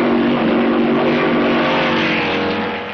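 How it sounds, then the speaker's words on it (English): 1950s Formula 2 race cars, a Ferrari and a Maserati, roar past in a loud, continuous engine blare that holds steady and then fades slightly at the end, with no one speaking. "Hawthorne's Ferrari passed by the Maserati of Fangio."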